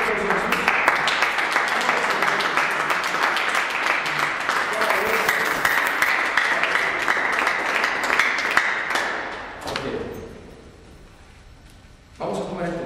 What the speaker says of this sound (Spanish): ¿Quiere aplaudir? Demos un aplauso.